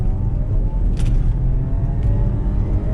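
A car engine, from inside the cabin on a dealership test drive, pulls with a steady low rumble under acceleration, fairly close and continuous with no talking.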